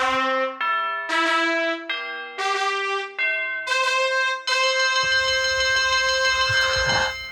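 A bright string of bell tones rings one after another as a rating sound effect for a book, each clear chime stepping in pitch before a final sustained, shimmering peal, loud and close.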